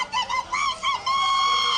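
Turkeys in a video game give a run of loud, nasal honking calls, several short squawks followed by one long drawn-out honk, close and clear with no talking.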